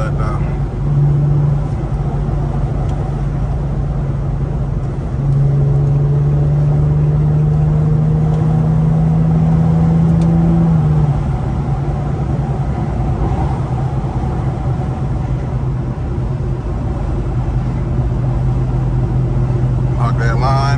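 Infiniti G37 with a muffler delete accelerating, its loud, raw engine note rising in pitch during a long pull before easing off, with a steady car drone throughout and people talking over it inside the cabin.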